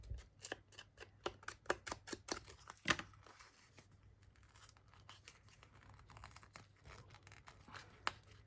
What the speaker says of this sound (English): I'm actually going to tear here.